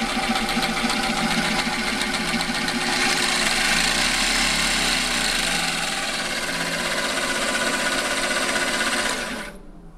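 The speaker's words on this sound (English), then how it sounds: "You push this thing to start and adjust your speed." A Biospec Mini-Beadbeater-8 bead mill homogenizer runs loudly and steadily for nearly ten seconds with a dense, buzzing mechanical rattle, then cuts off abruptly at the end.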